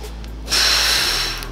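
A short, forceful breath hisses out through the nose or mouth, loud and close, after a brief quiet moment, during a weighted squat.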